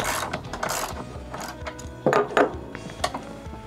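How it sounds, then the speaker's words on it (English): A socket wrench ratchets as 14 and 17 mm sockets tighten the wheel nuts on a TrailMaster Storm 200 minibike, giving close, irregular clicking bursts and metallic clanks with short pauses. "I'm going to tighten it down using a 14 and a 17 mil socket."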